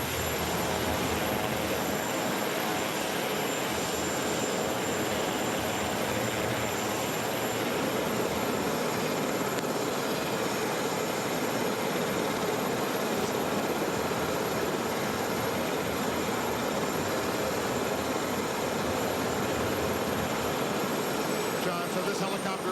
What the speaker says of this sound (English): So this helicopter will take off for Joint Base Andrews